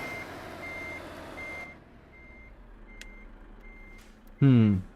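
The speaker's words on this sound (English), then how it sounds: "Now we're going to do a little bit of incredibly skilled reverse driving." Reversing alarm of a truck in Euro Truck Simulator 2, a steady series of evenly spaced electronic beeps under engine hum, followed by a brief loud burst of another sound at the end.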